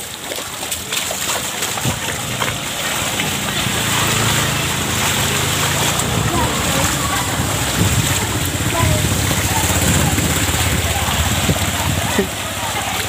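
Floodwater pouring into a house in Rejosari, Karangawen, Demak, a steady rushing, splashing wash of water that runs without a break from start to finish. A low rumble sits under it, and a voice speaks faintly now and then.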